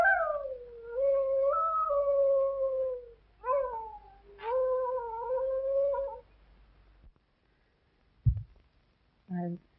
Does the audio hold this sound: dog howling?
yes